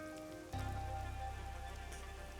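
Rain falls in the video game Master Detective Archives: Rain Code, a steady, dense patter that swells louder midway and continues without voices.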